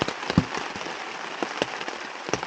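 Rain falls on a winter campsite with a hot tent at Killbear Provincial Park, making a steady close patter broken by sharper individual drips striking nearby surfaces.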